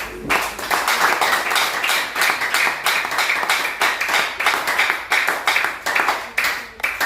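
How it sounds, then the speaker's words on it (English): An audience at a religious gathering claps hands together in a loose, rhythmic pattern, loud and close, with individual sharp claps repeating roughly every half second throughout and a few faint voices underneath. "Clap hand for the Most High."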